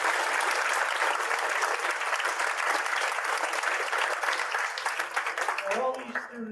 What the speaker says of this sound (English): I'd like to give another round of applause to the choir that did a great job